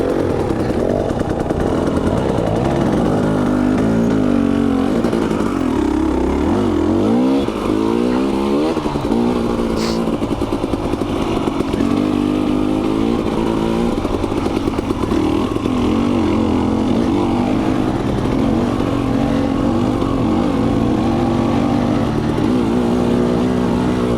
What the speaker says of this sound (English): Now we'll ride behind Luke and just kind of check his body position here